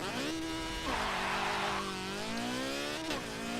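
Engine of a heavily modified sleeper VW Type 3 making over 700 hp, revving hard in the Forza Motorsport 7 racing game: a loud, continuous drone that rises and falls through several pitch sweeps, with no talk over it.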